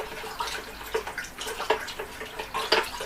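Wet, squelchy stirring of boilie bait ingredients mixed with liquid Robin Red, irregular sloshy pulses close by with no voices.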